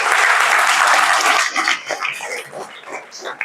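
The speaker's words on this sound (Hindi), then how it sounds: "तालियां बजाइए इनके लिए" A burst of crowd applause, dense clapping that fades after a second or so into scattered claps and murmurs.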